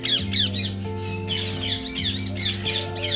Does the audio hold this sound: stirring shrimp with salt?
no